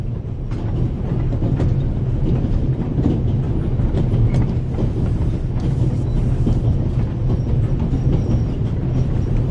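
Steady rumbling of a moving train in a video game, a continuous low rolling clatter with faint rhythmic clicks, moderately loud with no talk over it.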